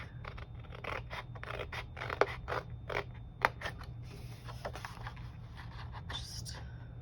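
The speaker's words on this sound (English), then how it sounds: "gonna try to see if I can cut this straight" Scissors cut through a sheet of paper with repeated crisp snips and scraping rasps at close range, a slow uneven rhythm with faint background hum.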